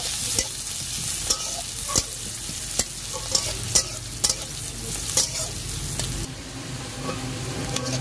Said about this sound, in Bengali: তেলের উপরে 5 ফোড়ন, পেঁয়াজ, লঙ্কা, কাঁচা লঙ্কা দিলাম, দিয়ে একটু ভাজা ভাজা করে নেবো